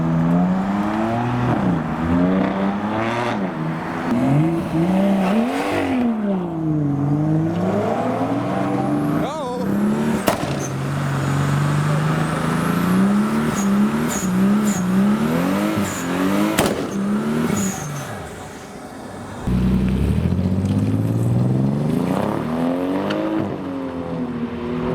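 At a JDM Supra takeover, a car does a burnout: the engine revs up and down in long rising and falling wails with tire squeal, loud and near, while people talk in the background.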